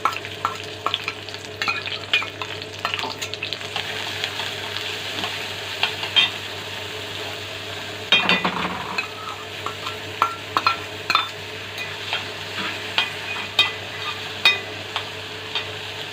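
Chopped onion fries in about two spoons of oil in a pan, the first step of an Egyptian meatless eggplant moussaka, with a steady sizzle and repeated stirring scrapes and utensil knocks throughout; there is no talk.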